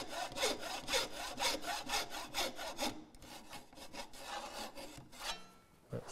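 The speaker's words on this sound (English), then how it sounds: "I'm going to switch saws and drop in my bow saw" A bow saw cuts through wood at close range while making cam clamps, with steady, rhythmic back-and-forth rasping strokes that slow briefly near the end. No voices are heard.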